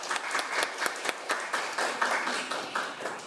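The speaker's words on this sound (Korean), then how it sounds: "여러분 큰 박수로 맞아주시길 바랍니다" Audience applause at an academic seminar on international cooperation over North Korean civilian abductions, welcoming the session moderator. A hall full of people claps steadily and moderately loud, with individual claps audible in a brisk rhythm.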